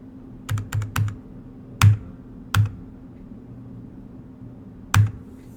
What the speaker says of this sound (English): Got the world's loudest keyboard again running